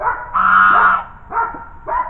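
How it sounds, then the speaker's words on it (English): A lost goose honking loudly nearby on a sheep farm during spring dagging, three nasal honks in quick succession, the first longest, with no talking over them. "I got a lost goose."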